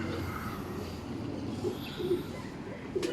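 Racing pigeons and breeders in a loft during a national race, giving soft, faint coos a few times against quiet background ambience.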